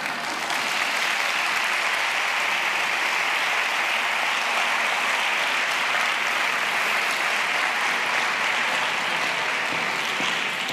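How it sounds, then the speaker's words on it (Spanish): Sustained audience applause after a talk at a cultural heritage conference, a broad, even roar of clapping from a large room that holds steady at full strength throughout, with no speech over it. "seguimos con el aplauso y así yo doy tiempo a llegar"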